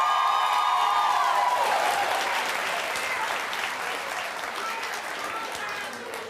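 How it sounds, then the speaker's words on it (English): A studio audience on a daytime talk show applauds loudly, with some voices and cheering under it, and the clapping slowly thins out over several seconds. "you hear the audience applauding for you"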